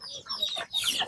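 A free-range farm chicken clucks close by in a brief burst of a few quick, scratchy calls, loud and clear with no talking.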